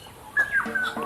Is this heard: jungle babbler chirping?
yes